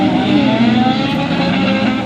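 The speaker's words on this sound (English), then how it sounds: "because I think they're racing down the hill." Race cars on the Jebel Hafeet mountain road in Al Ain roar steadily, a loud sustained engine drone with shifting pitch as they speed downhill, no voices over it.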